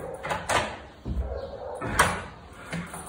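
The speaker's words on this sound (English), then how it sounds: "That's the door." A door is handled in Southern Spain, giving several sharp knocks and thumps spaced about a second apart, fairly close, with muffled voices around them.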